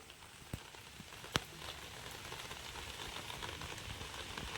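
Rain falls in a steady, faint patter and hiss on surfaces outdoors, with a couple of sharp knocks early on.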